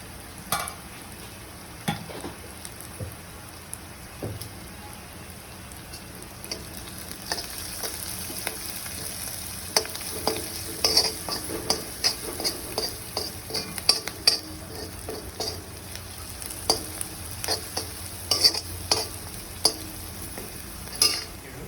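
Onions with salt and turmeric fry in a pan for a brain fry dish, giving a continuous soft sizzle broken by frequent scraping and clinking stirs of a spoon, close and without voices.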